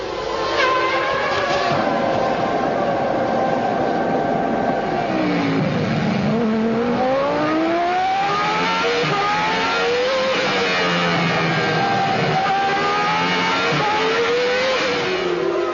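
Formula 1 race cars from the 1995 season accelerating hard, with loud high-pitched engine notes rising and falling through gearshifts as several cars pass close by, continuous and without talk.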